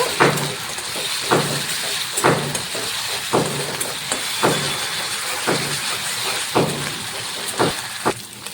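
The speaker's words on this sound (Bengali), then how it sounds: "আদা রসুনের পেস্ট দিয়ে ভালো করে একটু ভেজে নেব।" Ginger garlic paste frying in a pan, a constant close hiss with regular scraping knocks of a spatula about once a second.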